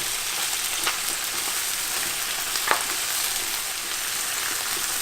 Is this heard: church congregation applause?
no